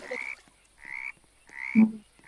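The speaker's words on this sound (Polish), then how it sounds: "Żaby." Frogs croaking in the video game 99 Nights in the Forest, three or four drawn-out, buzzy croaks in quick succession, close and clear with short gaps between them.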